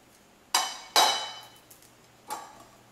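Knife slicing broccoli florets on a cutting board while preparing a chicken and broccoli stir-fry: three sharp, close chops, the second the loudest, each with a short ringing tail.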